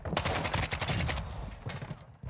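Rapid bursts of automatic gunfire in a Call of Duty-style shooter game, dense and loud and close, thinning toward the end.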